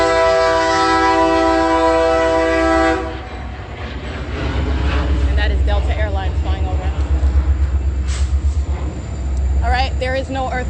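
A Union Pacific train sounds a loud, sustained horn blast for about three seconds, then its cars rumble and clatter past nearby in a heavy, continuous roar with rhythmic pulsing.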